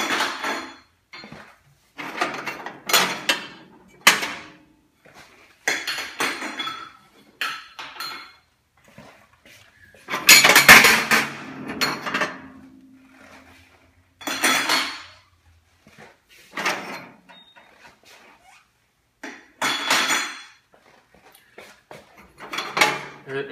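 Metal parts being lifted out of a Kosei charcoal yakitori grill by hand: a series of sharp clanks, clinks and scrapes in irregular bursts, separated by short quiet gaps, with one louder rattling clatter partway through.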